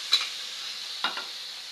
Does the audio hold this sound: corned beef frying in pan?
yes